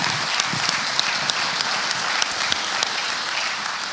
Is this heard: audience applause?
yes